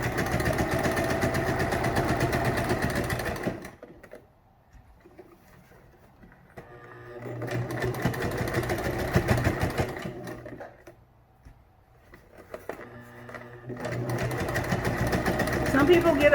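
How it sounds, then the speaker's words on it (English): Home sewing machine stitching fabric while masks are made, running in steady bursts of rapid mechanical stitching that stop twice for brief pauses, close and fairly loud. "keep right on sewing"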